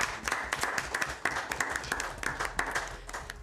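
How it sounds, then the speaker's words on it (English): Audience at a university debate competition claps for the winners, a moderate, steady round of applause with distinct individual claps throughout. "A round of applause to Midlands State University."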